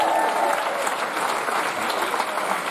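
Applause from a crowd at a Fuckup Nights event in Tel Aviv, dense and continuous clapping at steady volume throughout, with no talk over it.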